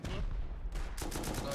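Rapid gunfire aimed at turrets during a base raid in the survival game Rust, a dense crackling burst that gets louder and busier in the second half, with faint voices underneath.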